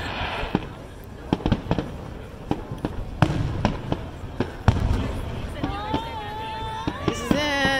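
Fourth of July fireworks, a run of sharp booms and cracks at irregular intervals, some close and loud, followed by whistling rising streaks as more shells launch.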